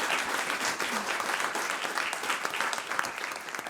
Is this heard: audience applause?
yes